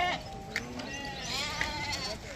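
Young goats bleat at a busy livestock market, several short wavering cries close by over crowd murmur.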